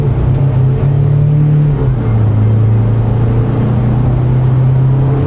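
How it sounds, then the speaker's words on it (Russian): A 2021 UAZ Patriot engine pulls hard as the throttle is pressed, a loud, close, low droning roar that climbs and shifts in pitch as the vehicle accelerates, with no talking. "Когда мы хотим ускориться, мы нажимаем газ."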